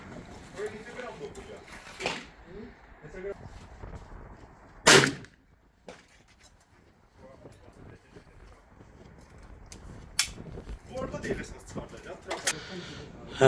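A Beretta 692 shotgun fires a 28 g 7.5 cartridge from its lower barrel with 3 choke, a single sharp, loud report standing out amid someone speaking and outdoor clatter.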